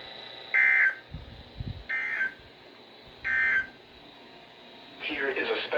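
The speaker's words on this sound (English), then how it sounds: "the National Weather Service has just activated the public warning alarm tone in a test" A NOAA weather radio warning alarm test sends three short, loud, buzzy electronic bursts at an even pace, with a harsher burst starting near the end.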